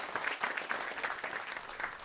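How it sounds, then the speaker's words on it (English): Applause from an audience at an indoor venue event, a steady dense patter of many hands clapping at moderate volume, continuous for a couple of seconds with no talk over it. "Give them a round of applause."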